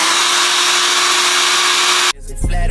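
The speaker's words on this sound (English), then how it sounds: "And then I just use the blow dryer." A handheld hair blow dryer runs loud and close with a steady airy roar and a faint motor whine, then cuts off abruptly near the end, leaving brief low rumbling.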